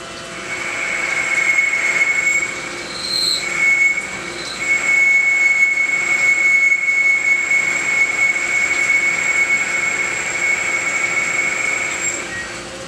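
A lathe turning down the tip of a part at about 700 RPM, giving a steady loud machining whir with a sustained high-pitched squeal of the cutting tool across the whole stretch.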